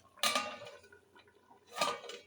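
A metal lid is set onto a cooking pot of prawn and pumpkin curry with coriander leaves, giving two close clanks, a sharp one first and a second rattling settle a moment later.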